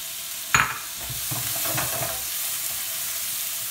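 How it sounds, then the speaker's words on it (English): Onions pan-fry in melted butter with a splash of oil. A sharp clunk as they hit the pan is followed by close, steady sizzling and the scraping of stirring. "I'm going to pan fry our onions."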